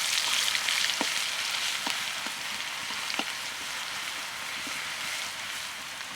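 Garlic paste sizzles in hot oil spiced with whole garam masala as the base for a mutton curry, a steady close frying hiss broken by a few sharp spatters.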